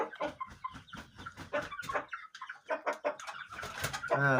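A young rooster chick named Kobra gives a run of chirps and clucks, near and fairly loud, with short breaks and a louder burst at the end; no one speaks.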